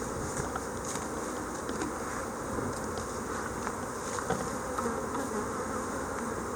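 Honeybees swarm and buzz steadily around an opened hive being worked with smoke, a dense continuous drone up close with no pauses and no voices.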